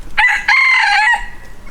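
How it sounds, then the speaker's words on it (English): A rooster gives a single loud, close crow, a short opening note, a brief break, then a longer sustained call, followed by quiet. "Next to them we have Luigi, my famous rooster"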